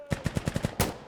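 A rapid burst of six evenly spaced gunshots followed by one heavier shot, loud and close, fired at an enemy during a military training exercise.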